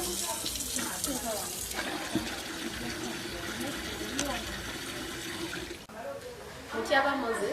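Water runs steadily from a community tap fed by a well tank, a continuous close splashing and gushing flow, with a person talking over it.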